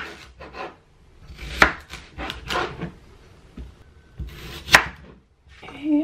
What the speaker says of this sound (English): Now I'm going to cut my vegetables.